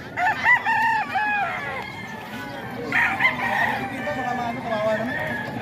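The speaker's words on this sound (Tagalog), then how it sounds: "Ito ang mga manok na Sir Nelson mga ka-idol." Several roosters crow repeatedly among chickens at a Filipino poultry yard, with gamefowl nearby, overlapping calls rising and falling amid a busy background of clucking and faint voices.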